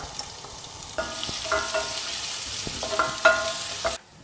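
Garlic and ginger sizzle in a hot pan for palak paneer while a utensil stirs and scrapes a few times, the frying steady and close, no talking.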